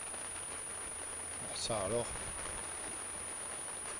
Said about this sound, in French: c'est les premières gouttes de pluie du voyage depuis juin, 2 mois.